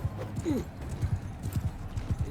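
Rhythmic hoofbeats of a horse at speed in a cavalry battle in the video game Mount & Blade II: Bannerlord, steady thudding clip-clop close by, with a short neigh over the galloping.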